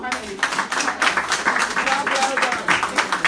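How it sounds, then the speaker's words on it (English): An audience claps for a panel of speakers at a women's leadership event, a steady patter of hands at moderate distance while a voice keeps talking over it. "Please, a round of applause for our panelists."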